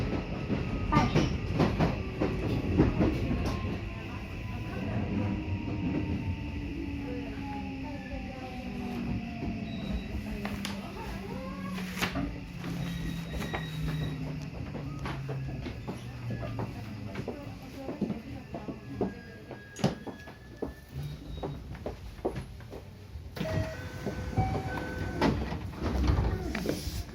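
A JR West 323 series train pulls into a station on the Osaka Loop Line. The motor tone falls as the train slows, wheels clatter over the rails, and the doors slide, with station announcements and platform chatter over it.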